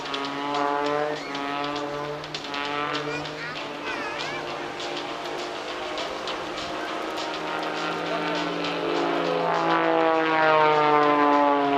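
A propeller-driven aerobatic display aircraft at the Clacton Airshow 2025, hanging on its prop and tumbling before pulling into the next manoeuvre; a loud, sustained engine drone with a shifting pitch that rises and falls throughout, with a commentator talking over it.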